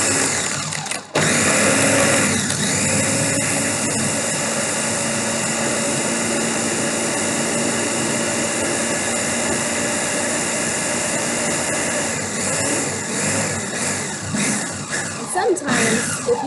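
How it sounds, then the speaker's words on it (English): A spinach smoothie churns in a blender, a loud steady motor whir with grinding that runs almost the whole time, briefly stopping near the start and pulsing toward the end, with a voice talking over it. "So I'm going to push it down and blend it up."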